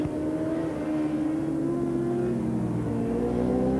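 Pro-Superbike racing motorcycles at the Sachsenring in 1997, a loud, steady engine drone with pitch rising and falling as the bikes pass through a chicane, alone without speech.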